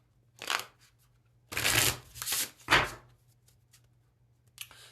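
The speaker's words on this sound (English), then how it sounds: "So I'm going to shuffle this deck 3 times" Tarot cards being shuffled in three quick riffle bursts, close and crisp, with quiet gaps between, and a faint tap at the end.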